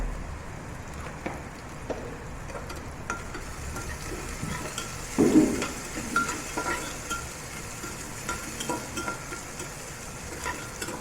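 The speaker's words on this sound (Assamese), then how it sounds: "আৰু এইখিনি মই পিঁয়াজ দি দিছোঁ আপোনালোকে পাৰিলে ইয়াত জিৰাও দিব পাৰে" Onions and cumin seeds frying in a pan for a potato and egg pulao, giving a steady close sizzle with occasional stirring scrapes throughout, with no talk over it.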